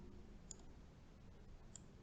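A computer mouse gives two faint, crisp clicks about a second apart while items are selected in 3D garment design software, over a steady background hiss.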